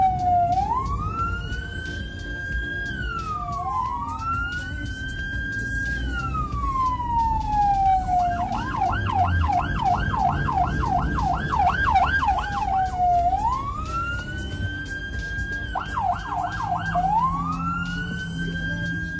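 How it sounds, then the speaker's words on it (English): An ambulance siren moving through St. Petersburg city traffic, loud and continuous, sweeping in long rising-falling wails that switch to a fast yelp, over a low rumble of traffic. "the drivers of the city of St. Petersburg seem like they really tried to let the ambulance pass"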